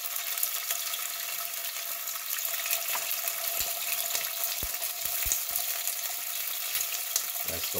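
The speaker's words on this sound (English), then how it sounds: "we're just going to fry each side" Cod fillets fry in a small amount of oil in a pan, giving a steady close sizzle with occasional soft pops and knocks over several seconds.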